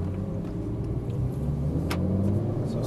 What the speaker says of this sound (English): Roll on the throttle out to the pit wall there, and then back to the left.